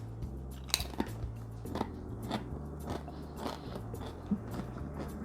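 Faint, sparse crunches and crackles as crisp baked apple chips are bitten and chewed close up, a handful of sharp snaps over a quiet low hum.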